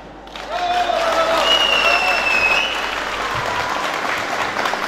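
Loud, sustained applause from a crowd at a Yörük gathering in Kaş, a thick wash of clapping that swells quickly and holds steady, with a few voices and a whistle-like tone riding over it.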